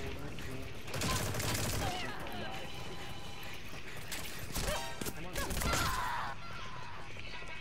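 Gunfire in the online shooter Metal Gear Online 3 during a team match: dense, overlapping bursts of shots with louder flurries near the start and again toward the end, under faint background voices.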